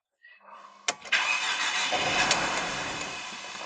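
A Mercedes sport coupe engine cranks and starts after a brief electronic chime, catching with a sharp burst and then settling into a loud, fairly steady idle that slowly fades in level.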